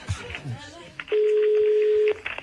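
A telephone rings with a single steady electronic tone lasting about a second, loud and close, right after a burst of lively radio-studio talk, with brief voices resuming as it stops.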